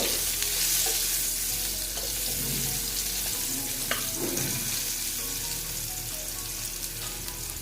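Potatoes dusted with turmeric fry steadily in a pan on the stove, with a continuous close sizzle and occasional scraping as they are stirred; no one speaks.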